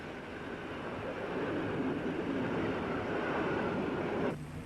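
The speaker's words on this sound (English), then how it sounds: "a modern electric pulls a passenger train into a wet and smoky station" A modern electric locomotive draws a passenger train into a wet, smoky station in late-1960s Eastern Europe, giving a steady, broad rumble and rolling hiss that holds level throughout and drops off abruptly near the end.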